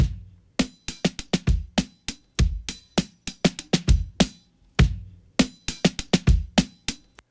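A punchy boom bap drum loop plays alone, hard kicks and crisp snares hitting in a steady, loping hip-hop groove.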